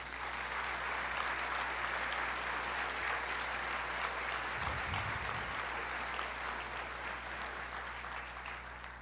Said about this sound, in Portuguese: Vamos dar uma salva de palmas para as mulheres?